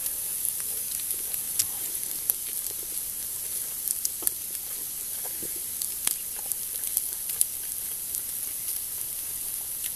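Canned bologna fries in a pan over a wood fire with a steady, thin sizzle and scattered small pops and crackles, close up and continuous.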